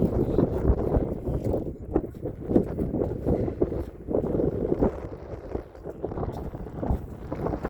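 Strong wind gusts buffet the microphone outdoors on a farm near a hay barn on a cold day, producing a continuous loud rumbling roar with no speech.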